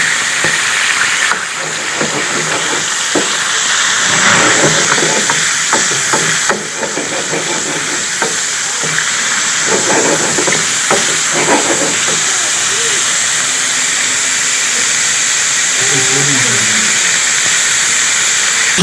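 Boneless chicken sizzling and frying in a handi pot with salt, a steady loud hiss running throughout, with faint clinks and stirring knocks now and then.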